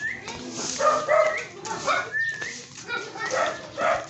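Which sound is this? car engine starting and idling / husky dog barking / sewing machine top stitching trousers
husky dog barking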